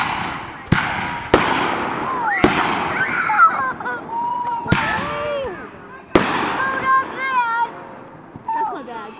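Fireworks at a small backyard display burst in sharp, loud bangs, about five spaced a second or two apart, while children and adults chatter and exclaim between them.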